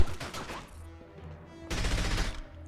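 Bursts of gunfire in the James Bond video game From Russia with Love, rapid automatic shots in two clusters separated by a brief lull.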